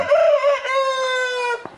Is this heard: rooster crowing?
yes